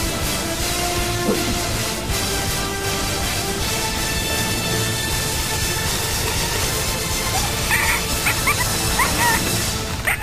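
A wild domestic dog barks and whimpers loudly during a rescue with snare, net and carrier, among steady noisy outdoor activity and brief people's voices.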